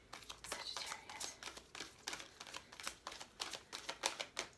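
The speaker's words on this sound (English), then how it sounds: "These oracle cards are great, but they're a little bit big, so sometimes they're hard for me to shuffle." Large oversized oracle cards being shuffled by hand, a rapid run of close, crisp papery flicks and riffles in uneven bursts, with soft handling rustle between them and no talking.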